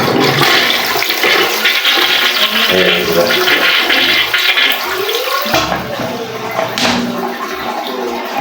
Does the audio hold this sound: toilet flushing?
yes